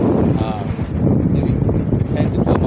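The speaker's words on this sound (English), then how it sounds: "It's a windy day, sunny day." Strong wind buffets an outdoor microphone on a sunny, windy day with gusts around 10 to 12 mph, a loud continuous rumbling roar that runs steadily through the whole moment while a person talks over it.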